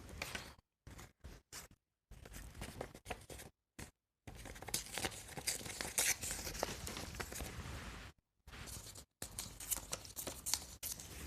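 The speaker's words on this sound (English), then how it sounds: "This tears so beautifully, you don't need a tear ruler actually" Paper being torn by hand for handmade journal cards, a series of short rasping rips broken by silent gaps, then a longer continuous tear, close and fairly quiet.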